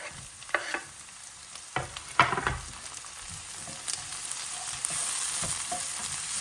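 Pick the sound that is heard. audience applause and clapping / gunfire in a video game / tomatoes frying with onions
tomatoes frying with onions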